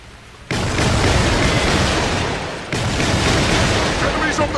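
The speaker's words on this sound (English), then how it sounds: "But I was seeing the explosions" Explosions in a video game boom out as a loud, dense roar that fills the mix, dropping back briefly before a second heavy blast continues the rumble.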